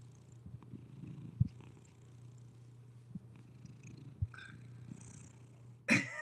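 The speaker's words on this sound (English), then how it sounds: "I don't know if you can hear him purr." Close, steady purring from a cat fills the whole stretch as an unbroken low rumble, with a couple of soft knocks and a brief rustle near the end.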